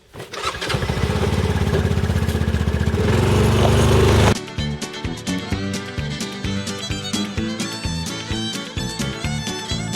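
A Rhino 700 FI utility vehicle's engine roars loudly and steadily up close for about four seconds, then cuts off abruptly and gives way to a rhythmic, musical backing.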